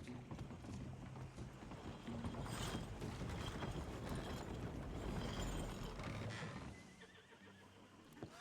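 Horse hooves clip-clop in Red Dead Redemption 2 while the animal whinnies, a steady close rhythm of steps in game ambience that eases off near the end.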